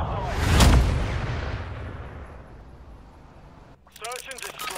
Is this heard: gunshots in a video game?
yes